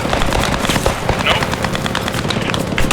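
Enemy mortar fire in the WWII shooter game Post Scriptum: a dense, continuous barrage of booms and rapid gunfire crackling without pause, loud and close, with voices talking over it.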